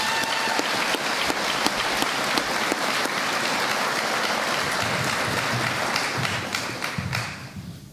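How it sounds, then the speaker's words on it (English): Sustained applause from a ceremony audience at a university doctoral hooding, dense and loud for most of the stretch before tapering off at the end. "Please join me in a round of applause."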